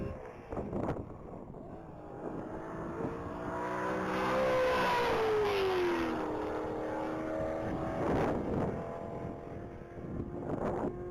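An orange 2007 Corvette Z06 on a top-speed run at a one-mile racing event, its engine note rising and sweeping in pitch as it passes, with wind noise throughout and a brief voice in the background.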